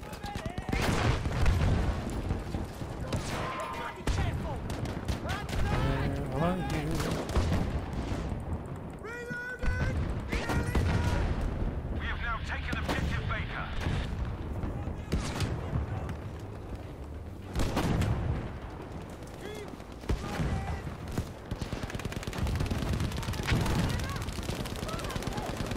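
Battlefield V gameplay with bursts of gunfire and machine-gun fire plus booming explosions scattered through the battle, mixed with game sounds and a player talking over it.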